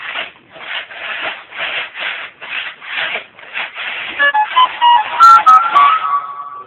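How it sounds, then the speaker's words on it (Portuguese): Rhythmic back-and-forth rubbing of sandpaper on a metal engine cylinder head, steady strokes close up, later joined by some squeaky scraping sounds. "Tá lixando aí o cabeçote de papai."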